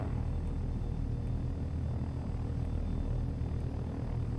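A steady, close drone comes from a model helicopter engine as the throttle is opened, a constant buzzing rumble with no pauses or other sounds.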